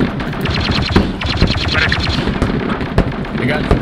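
Rapid bursts of blaster and machine-gun fire from a Star Wars shooter game, set on Geonosis with clone troopers and a mortar squad, crackle continuously with sharp impacts and distant booms, with voices talking underneath.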